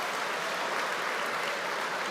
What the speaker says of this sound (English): giving them a giant round of applause from our grads to our home humans